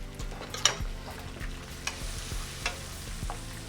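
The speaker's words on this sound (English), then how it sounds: "I'm kind of gonna scramble them in the pan" Two eggs scramble with minced garlic in a hot pan, a soft steady sizzle broken by a few sharp scrapes of a utensil stirring against the pan, close up with no talking.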